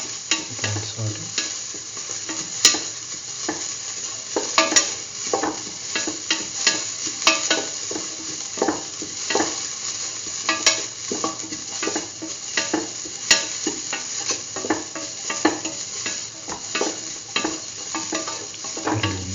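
Shrimp and aromatics sautéing in a pan for curried egg mung bean stew, a continuous close sizzle with frequent spatula scrapes and clicks against the pan.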